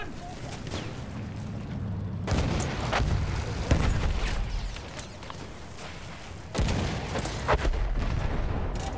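Booming shots from a field gun in Battlefield 1's Storm of Steel campaign, with heavy blasts and gunfire mixed into loud battle noise and some shouting.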